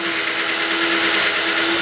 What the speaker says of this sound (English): I'm going to use this Forstner bit for the jack hole